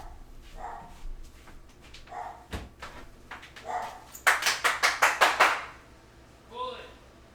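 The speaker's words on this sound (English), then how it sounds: "Can't stand this dog." A dog barks in a quick run of about seven sharp, close barks, with scattered softer yips before and after, while someone talks over the game.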